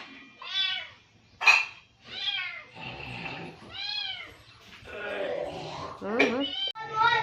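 A cat meows repeatedly at close range, giving about eight drawn-out meows in an uneven rhythm, with a person's voice talking briefly between them.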